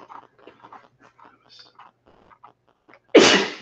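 One sharp, loud sneeze bursts out at the end after a stretch of soft, quiet conversation.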